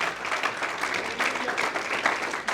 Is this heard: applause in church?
yes